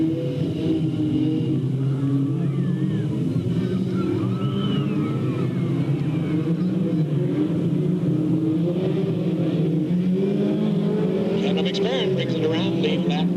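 Race cars at Delta Speedway roar together as the green flag drops, a dense, continuous engine drone filling the track while an announcer talks over the noise and a crowd murmurs underneath.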